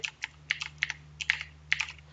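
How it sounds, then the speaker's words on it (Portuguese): Computer keyboard typed while strafing in CS:GO, a quick rhythmic run of sharp key clicks in short bursts, close and clear over a steady low hum. "Olha o som do meu teclado."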